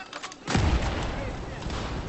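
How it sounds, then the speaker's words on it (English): An explosion in a Battlefield 3 multiplayer squad deathmatch: one deep, heavy boom erupts after a quieter stretch of distant shots, followed by a sustained rumbling roar of battle. "just hearing explosions going off"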